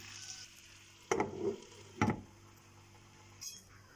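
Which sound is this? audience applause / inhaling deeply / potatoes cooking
potatoes cooking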